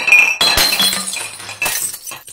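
A Foley glass-breaking effect rings out: bright clinks and shattering crashes in quick bursts, loud and close, with tinkling debris trailing off between hits and no voices.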